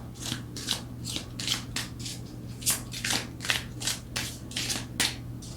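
Tarot cards are shuffled by hand to draw a single card, making steady rhythmic papery riffles and slaps about twice a second, close up, with no voices.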